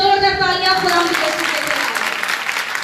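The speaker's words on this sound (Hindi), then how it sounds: "जो बहुत खुश है जोरदार तालियां खुदा के" Loud applause from a women's church gathering swells right after a speaking voice and holds as a steady, dense roar of clapping hands.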